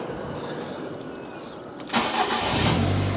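A car engine cranks briefly and catches, settling into a steady, close idle, with no talk; the car is a former Category N write-off.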